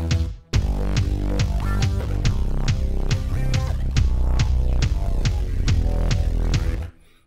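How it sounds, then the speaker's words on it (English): A deep subsonic bass in an electronic track throbs under a steady kick drum pulse, the beats evenly spaced and loud, running without pause for several seconds before cutting off abruptly. "I'm gonna also bring in my kick, so I have the pulse being triggered on the subsonic bass"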